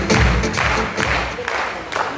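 Brief applause breaks out from an audience at a business gathering, a dense patter of clapping lasting a couple of seconds with a few low thumps and crowd noise.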